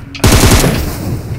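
Rapid automatic gunfire erupts in a video game, a loud close burst of several quick shots followed by a sustained rattling tail.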